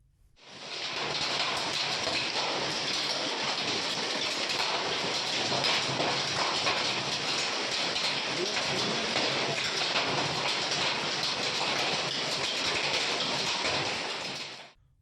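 Unseasonal heavy rain pours over farm fields in Andhra Pradesh during a sudden hailstorm spell. A dense, even hiss fades in and holds steady for the whole stretch before fading out, with no voices.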